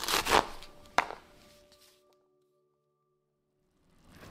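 A knife chops hot chili peppers on a board: a quick burst of close, crisp cuts followed by one sharp knock, then near silence.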